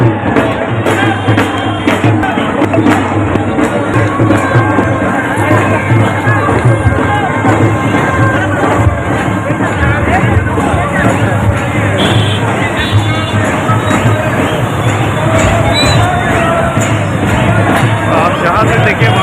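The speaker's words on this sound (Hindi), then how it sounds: "जहाँ से देखे वहाँ तक भीड़ ही भीड़।" A dense crowd fills a Hindu New Year procession at Chetak Circle in Udaipur with a loud, continuous roar of voices, shouts and cheering, with drums and music under the din throughout.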